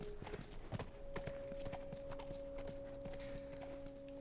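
Faint horse hooves clip-clopping at a walking pace in the video game The Last of Us, a steady irregular series of clops with a low hum underneath.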